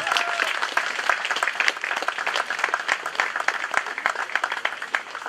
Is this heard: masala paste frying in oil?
no